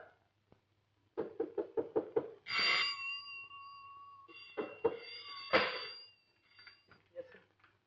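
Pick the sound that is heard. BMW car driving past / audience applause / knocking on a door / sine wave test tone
knocking on a door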